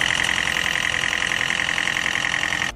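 A car engine idling with an abnormal noise and a fault burning oil that gives blue smoke, a steady close, loud mechanical hum with rapid ticking and clatter, cutting off at the end.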